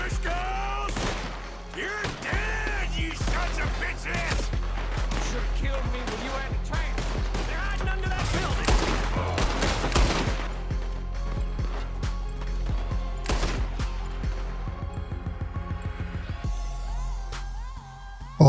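Gunshots fired in the Western video game Red Dead Redemption 2, sharp loud bangs scattered among busy game sounds, with a rapid burst of shots near the end.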